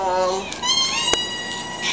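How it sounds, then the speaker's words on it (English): Cats in a shelter quarantine area, one of them FeLV positive, meowing with rising harmonic cries close by, repeated several times over steady background chatter and a sharp clank. "yes, there's some very nice kitties here"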